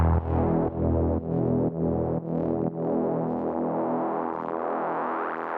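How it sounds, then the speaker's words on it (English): A warbly Reese bass synth preset from an electronic track plays loud and sustained, with a few rhythmic retriggers before its detuned tone opens up and brightens into a thick, continuous swell, with no voices. "Final thing to show you in the bass group is this Reese sound. So it's just this kind of warbly preset"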